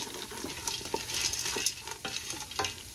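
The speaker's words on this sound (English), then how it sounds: "I'm going to now stir it all up" Spices being stirred into a pot of red beans for New Orleans red beans and rice, with a steady soft sizzle and repeated scraping spoon strokes against the pot at an uneven rhythm, close up and without voices.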